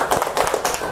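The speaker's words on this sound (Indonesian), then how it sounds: "Tepuk tangannya." Brief clapping from a classroom audience of pupils, a quick burst of scattered hand claps, close and fairly loud, lasting only a moment.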